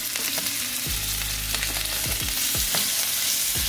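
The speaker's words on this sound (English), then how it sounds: "So now we're gonna go in with the salmon" Salmon fillets sear in a hot pan with a steady close sizzle, broken by several sharp clatters of a utensil or the pan over a few seconds.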